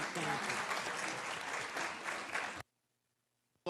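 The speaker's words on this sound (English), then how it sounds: "One more round of applause for our moderator." Conference audience at a business summit gives the moderator a round of applause, a full dense burst of many hands that runs steadily and then cuts off abruptly into near silence.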